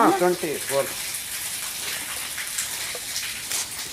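Spring water at the Antargange cave in Karnataka flows continuously with a steady, close rushing wash. A voice is briefly heard at the start.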